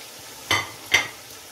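Two short stirring scrapes sound close up over a faint sizzle as chicken fries in a pan with browned onions and tomatoes.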